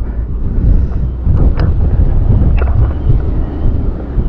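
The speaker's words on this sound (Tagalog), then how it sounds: "Ay, lumalakas na yung hangin." Strong wind roars steadily across the microphone at sea from a boat during a tamban fishing trip, a constant low buffeting rumble with brief gusting surges, loud and close throughout.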